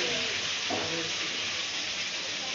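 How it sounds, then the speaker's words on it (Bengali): Food fries in a home kitchen pan with an even, continuous sizzle at moderate loudness, and a voice briefly murmurs underneath early on. "সব ভাজাভাজি চলছে।"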